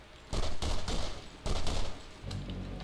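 Pistol gunfire in the video game Borderlands, two loud bursts of rapid shots in quick succession followed by a softer sustained rumble.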